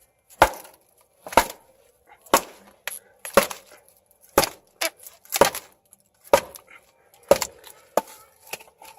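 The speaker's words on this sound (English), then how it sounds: "But see how it batons real quick." Sharp wooden knocks ring out about once a second as a stick strikes a knife spine through wood, with softer taps between the main blows.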